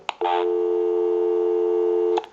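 Busy signal on a three-slot payphone fitted with a bell box: a steady, loud tone beginning after a brief click and running unbroken for about two seconds before cutting off with another click.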